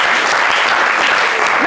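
A studio audience on a television variety show claps for the announcer, a steady dense round of applause that carries at full volume from start to end.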